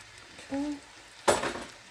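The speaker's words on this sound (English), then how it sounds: "I am gonna put a little bit more olive oil in the pan to brown up the turkey" Ground turkey browns in olive oil in a pan. A short clink comes first, then a sudden burst of sizzling that fades over a second, fairly quiet and close.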